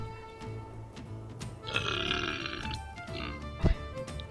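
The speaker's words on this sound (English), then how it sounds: "That was a solid 8 out of 10 burp if I've ever heard one" A single deep burp rumbles out near the end, short and loud, after a stretch of game music and sound effects with no talking.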